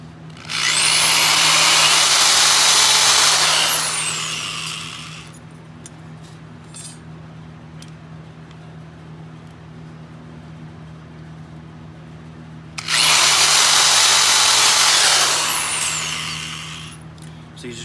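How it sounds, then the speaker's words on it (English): A power drill drilling holes in brass whines loudly in two separate bursts of a few seconds each, with a quiet pause between them. "So you just drill your hole in those."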